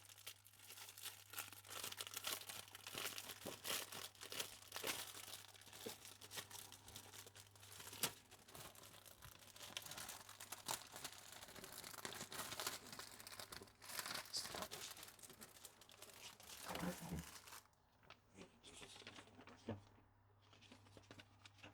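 Sheets of A4 paper and a plastic laminating pouch being handled and readied for a laminator, with soft crinkling and rustling throughout, very quiet and close, ending in near silence.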